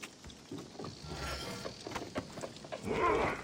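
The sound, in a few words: animal howling in Assassin's Creed Origins video game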